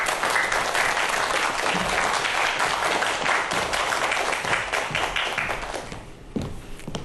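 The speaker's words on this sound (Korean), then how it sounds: "큰 박수로 맞이하도록 하겠습니다" A lecture audience gives steady, full applause to welcome the speaker, many hands clapping continuously and evenly before thinning out near the end, with no talking over it.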